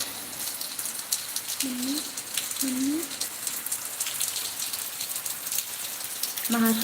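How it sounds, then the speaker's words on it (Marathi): Steady rain patters and hisses in Pithoragarh, Uttarakhand, a broad continuous wash close around, while a voice speaks briefly a few times over it. "आता पण पाऊस पडत आहे"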